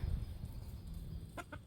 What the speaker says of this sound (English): here goes our rooster